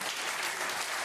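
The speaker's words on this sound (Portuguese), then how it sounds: "você pode aplaudir a Deus mais uma vez?" Church congregation applauding at a Pentecostal service, a dense, steady wash of clapping from many hands filling the room at even loudness throughout.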